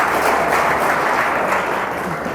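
A crowd of audience members claps loudly and steadily for a speaker at an event, dense continuous applause with no pauses from start to finish.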